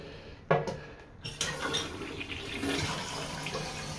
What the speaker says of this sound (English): It barely flushes.